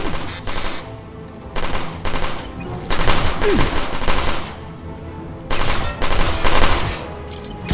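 Loud, rapid bursts of automatic gunfire in Mass Effect 2 come in clustered volleys separated by short lulls, with combat noise filling the gaps.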